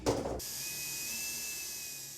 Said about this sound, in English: I'm going to drill up through the bottom and secure that into place.